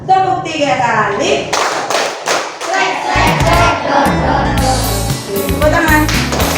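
A class of children claps hands in a counted pattern inside a classroom, sharp percussive claps in groups over a steady background of music and voices, fairly loud and close.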